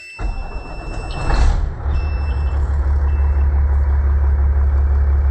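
A truck on air suspension fires up on the first turn and settles into a steady, deep, loud idle close by, with a short cranking surge at the start and a faint high beeping tone running throughout.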